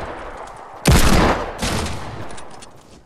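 Gunfire in Fortnite Battle Royale: a sudden loud burst of rapid shots followed by a second volley that fades out over about two seconds.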